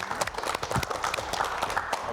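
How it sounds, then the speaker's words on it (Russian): A studio audience at a youth discussion on financial literacy gives a short burst of dense clapping. "Спасибо, аплодисменты."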